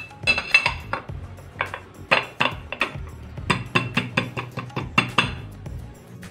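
A metal spatula scrapes and clinks against a pan while raw banana peel halwa is emptied onto a plate: a string of sharp, bright metallic taps and scrapes in irregular bursts, close and fairly quiet.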